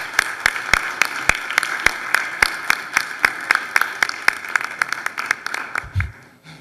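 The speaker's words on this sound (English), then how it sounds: "So let's give them a round of applause as well." An audience at a Hispanic Heritage Month celebration claps in a steady, sparse rhythm, the individual claps sharp and evenly spaced, thinning out toward the end.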